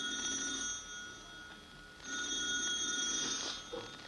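A telephone rings in a dark, quiet house at night, two clear bursts of bright, steady ringing with a pause between, fairly faint and distant, with no voices.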